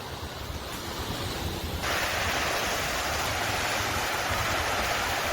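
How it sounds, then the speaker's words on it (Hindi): A fountain sprays water far out in a lake in Victoria, Australia, giving a steady broadband rushing hiss that grows louder partway through and then holds constant, with no voices. "झील के अंदर से जो फव्वारा खींच रहा है"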